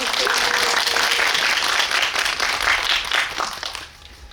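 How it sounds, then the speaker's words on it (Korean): An audience applauds after a film screening and guest talk in a cinema, dense clapping that holds steady and then tapers off at the end. "박수 좀"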